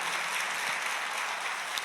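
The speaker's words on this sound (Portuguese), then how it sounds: "Pode aplaudir ao Senhor porque Ele é digno." A church congregation claps in praise during a worship service, a steady wash of many hands at a moderate level with no talk over it.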